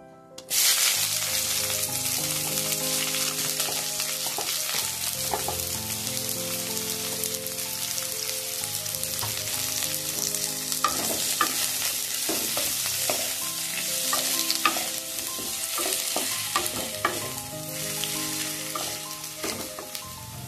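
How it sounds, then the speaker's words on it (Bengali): Chopped onions, about two large ones, go into hot oil tempered with mustard seeds for a raw tomato jhal, giving a loud, dense, continuous sizzle with stirring clatter throughout and no voices. "এবারে দিয়ে দেব কুচিয়ে রাখা পেঁয়াজ"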